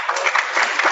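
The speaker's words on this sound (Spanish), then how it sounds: "Den un aplauso" A brief burst of dense clapping from a church congregation during a sermon, loud and close, filling the full second.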